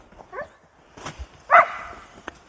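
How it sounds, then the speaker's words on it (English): A dog barks outdoors, a few short, sharp barks and yips spaced irregularly across a couple of seconds, fairly close and moderately loud over a quiet background. "Now you can hear the other dog barking."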